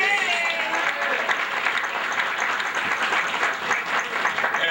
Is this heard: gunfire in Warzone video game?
no